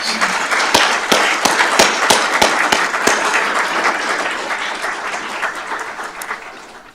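An audience at a fire and rescue services awards ceremony breaks into applause for honored firefighters, a dense, steady wash of clapping with a few sharp individual claps standing out, sustained throughout and thinning slightly toward the end.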